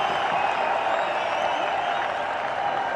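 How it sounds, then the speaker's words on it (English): A large cricket stadium crowd at a Pakistan versus New Zealand one-day international roars and applauds after a six, a dense, sustained wash of cheering with no pauses. "Crowds are jubilant"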